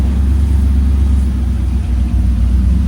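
Engine of a nearly finished off-road buggy running after its fuel hookup, a steady low rumbling idle, close and loud with no talk.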